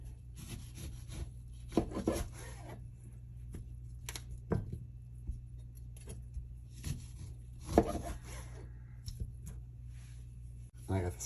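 A knife cuts oranges in half on a cutting board in a kitchen, giving a few soft, scattered thuds and scrapes, quiet and close, over a low steady hum.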